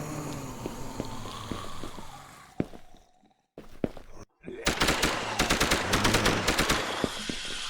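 Rapid automatic bursts from a submachine gun in an indie zombie video game, loud and dense in two stretches, with a short near-silent gap between them and single shots in between.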